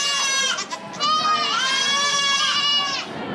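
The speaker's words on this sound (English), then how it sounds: "Oh, cute little baby goats." Baby goats bleat loudly and up close at a county fair, several overlapping wavering cries running continuously with a brief dip, over faint crowd background.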